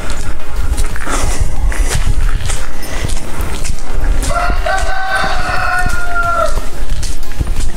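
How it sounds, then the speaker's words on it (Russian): A rooster crows once in the middle distance, a long rising-and-falling call over a steady outdoor background of rustling and scattered noise. "Вот видите, только петушок кричит."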